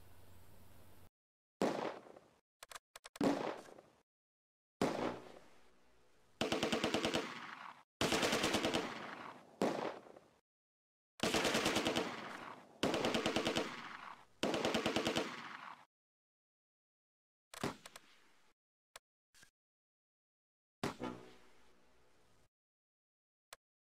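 Gunfire in the World War II strategy game Close Combat: A Bridge Too Far near Arnhem, sharp machine-gun bursts and rifle shots in repeated clusters separated by silent gaps, loud and close with no talk.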